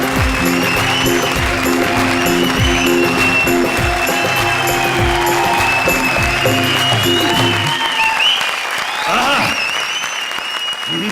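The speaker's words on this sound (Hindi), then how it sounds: "जोरदार तालियां" Loud, sustained audience applause at a stage show with music, dense clapping that thins out near the end.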